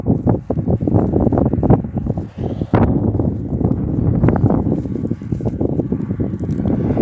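Steady gusts of wind buffeting the microphone outdoors on a wheat field, a continuous rough rumble with brief dips, no voices.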